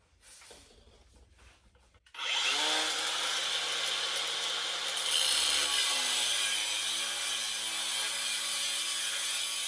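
Wood is cut with a power saw for a 1972 VW Super Beetle body dolly: a few quiet knocks come first, then a loud, sustained whining cut starts close by, and its pitch shifts partway through.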